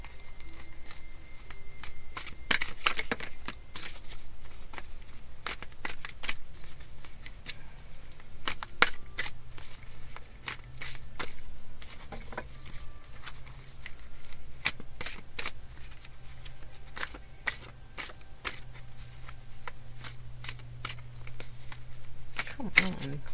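Tarot cards being shuffled with a steady riffling and flicking patter that continues throughout, fairly close, with occasional talk over it.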